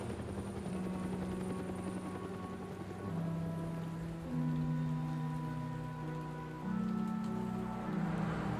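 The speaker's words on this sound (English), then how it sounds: "It's always raining in Gotham, it seems like." Steady rain falls through the city streets of Gotham in the TellTale Batman game, a soft continuous patter layered over a low droning hum, moderately quiet and without talking.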